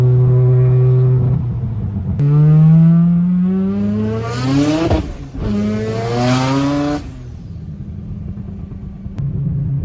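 Rotary-engine car with a T56 gearbox revving hard to about 10,500 RPM, shifting from first to second, loud and close: a rising howl, a brief dip at the shift, then another sharp climb before settling.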